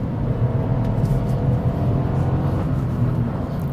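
A Kia Picanto GT-Line S driven hard along twisty roads, a steady loud engine drone from inside the cabin mixed with road and tyre roar, holding an even level throughout without talk.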